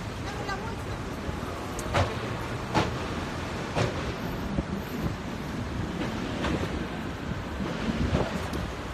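Strong wind among city skyscrapers buffets the microphone in a steady low roar, with gusty rumbles and a few faint clicks, while outdoor city noise sits underneath.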